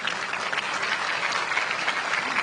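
An audience at a university convocation held in a governor's house applauds in a dense, steady wash of clapping that runs evenly throughout, with no voices above it.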